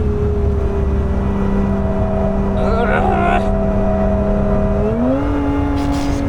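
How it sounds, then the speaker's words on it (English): A Lotus Emira's engine drones steadily from inside the car while driving. Its pitch jumps to a new level near the end as a gear changes, with a brief whirring rise in the middle. "That downshift sounded so painful."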